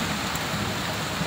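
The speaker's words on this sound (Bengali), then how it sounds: "এই যে বৃষ্টি জোরে নামলো" Heavy rain pours down steadily in a sudden downpour, a dense even hiss of drops on surfaces with faint low rumbling beneath and no voices.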